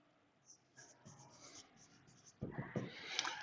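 Chalk or marker scratches across a classroom board as a physics proof of Gauss's law is written, in short scraping strokes that grow louder and denser toward the end, with a faint voice nearby.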